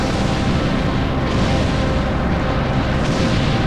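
A destroyed super weapon explodes in the naval video game Warship Gunner 2, a loud, dense, sustained rumbling blast that fills the whole moment without letting up.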